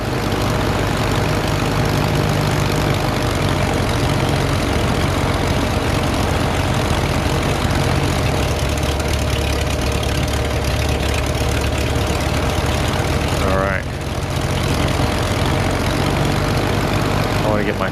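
Piper Cherokee engine throttled back to idle on a descent in the Prepar3d flight simulator, a steady, loud propeller drone with a brief dip and tonal sweep partway through.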